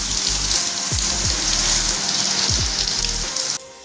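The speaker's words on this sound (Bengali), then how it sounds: "এবার বৃষ্টি শুরু হলো।" Rain falling on a cloudy morning, a dense steady patter throughout that cuts off near the end, with music in the background.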